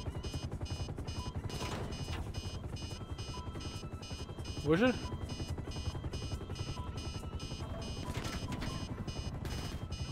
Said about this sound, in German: Ich komme immer mit einem Heli